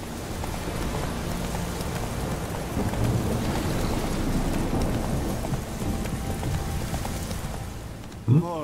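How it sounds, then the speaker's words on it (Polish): Rain pours in Velen in The Witcher 3: Wild Hunt, a continuous hiss over the clopping of a horse's hooves on a road, with a low rumble swelling midway and a brief louder knock near the end. "nie lubię tego deszczu w Velen."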